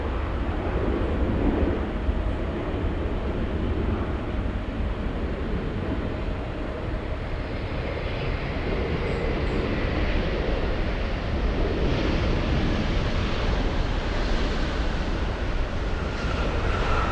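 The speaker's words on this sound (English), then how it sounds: "Triple seven on final approach. We have Austrian 81 flying in from Vienna." An Austrian Airlines Boeing 777 inbound from Vienna on final approach to Los Angeles sends out a continuous broad roar that swells and holds, heavy wind buffeting the microphone throughout.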